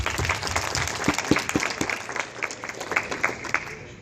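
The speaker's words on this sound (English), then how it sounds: "Round of applause for them real quick." Conference audience at a marketing event breaking into applause, a dense crowd of clapping hands with a few louder individual claps, steady and moderately loud throughout.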